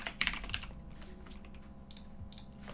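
Typing on a computer keyboard, a quick cluster of close, crisp key clicks at the start followed by sparser taps against quiet room noise, with no voices.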